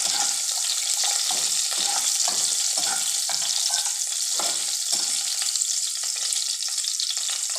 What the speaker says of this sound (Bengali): তেজপাতা আর সাদা জিরেটাকে একটু ভাজা করে নিচ্ছি।